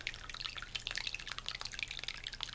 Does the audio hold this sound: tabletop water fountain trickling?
yes